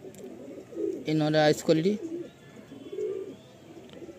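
A Madrasi pigeon gives a short, close coo in the middle, with softer cooing around it, while someone talks over the birds.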